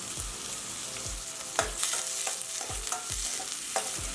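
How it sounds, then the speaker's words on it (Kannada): Onions, curry leaves and tomato frying in a pan for a Davangere-style puffed rice snack, with a steady sizzle under rhythmic scraping strokes as the mixture is stirred at close range. "2 ಮೀಡಿಯಮ್ ಸೈಜ್ ಈರುಳ್ಳಿ, ಕರಿಬೇವು, ಚಿಕ್ಕದು ಟೊಮೆಟೊ ಹಾಕ್ಕೊಳ್ಳೋಣ."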